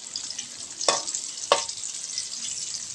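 Garlic and chili stir-frying in a pan give a steady bright sizzle, broken by two sharp scraping strokes of the spatula close by, with no voices.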